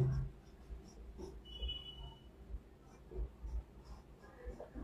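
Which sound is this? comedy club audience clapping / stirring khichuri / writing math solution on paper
writing math solution on paper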